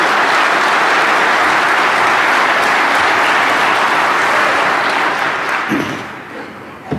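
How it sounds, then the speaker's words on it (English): Sustained applause from a conference audience at a security convention, dense and steady clapping filling the room before tapering off near the end. "Can we get a round of applause?"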